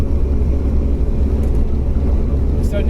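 A 1963 Toyopet Stout, a rare Thiess import pickup, cruises in fourth gear across the Darling Causeway, giving a loud steady engine drone and road rumble from inside the cab.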